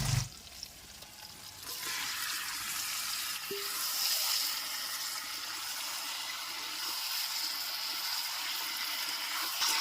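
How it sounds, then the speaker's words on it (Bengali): Marinated chicken dropped into hot spiced masala in a pan, giving a steady loud sizzle and frying hiss that continues evenly with no talking. "এবারে ম্যারিনেট করা চিকেন দিয়ে দেবো"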